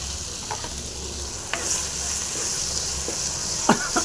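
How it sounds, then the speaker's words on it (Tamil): Spring onion, coriander and curry leaves fry in a hot pan with a steady, close sizzle, broken by a few sharp clinks and scrapes of stirring. "இது போட்டு நல்லா ஃப்ரை பண்ணிங்க"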